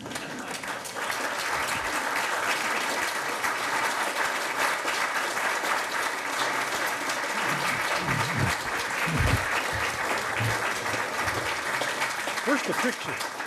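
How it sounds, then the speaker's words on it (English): Sustained applause from an audience at a school board trustee candidate forum, steady and fairly dense for the whole stretch with a few louder claps near the end. "Well, if the candidates would join me up here, you can applaud them."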